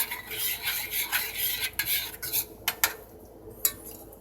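Parmesan being stirred into food in a pan over medium heat, with repeated close scraping and rasping strokes of a utensil against the pan and a few sharper clinks, without talk.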